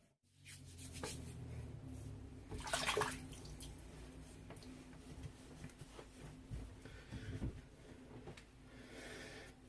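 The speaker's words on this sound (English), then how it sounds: "Take some of the bloom water. Throw that on our head." Bloom water from a wrung-out shaving brush splashed onto a head before a lather with a Merkur Progress safety razor, a brief wet splash near the start followed by soft rubbing and dripping sounds, close and quiet.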